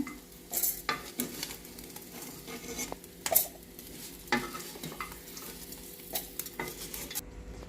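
Sizzling from a frying pan while cooking coconut tomato chutney, with intermittent scraping and stirring clinks, steady hiss underneath, no voices.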